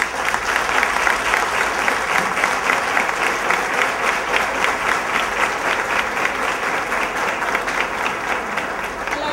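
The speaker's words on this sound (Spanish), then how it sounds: "Y eso merece doblemente un aplauso." Sustained audience clapping at an education forum, dense and steady with a slightly pulsing rhythm, filling the room for several seconds with faint crowd murmur underneath.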